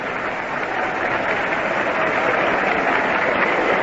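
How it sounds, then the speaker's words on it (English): A baseball crowd at a 1961 opening-day game between the Los Angeles Angels and Baltimore Orioles applauds pitcher Eli Grba walking to the plate, a steady, even wash of clapping and crowd noise heard from a distance throughout. "Richly deserved the applause that Grba gets now as he walks up to the plate"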